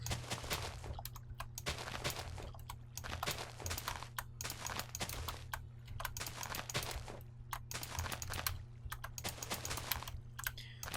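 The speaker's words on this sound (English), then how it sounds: "you can probably hear like every keystroke I do" Computer keyboard keys clatter in fast bursts of clicking keystrokes while playing Minecraft, with short pauses between flurries and a low background hum.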